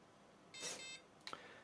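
A single short electronic beep from a small RC transmitter sounds faintly over quiet background noise, followed by a couple of tiny clicks.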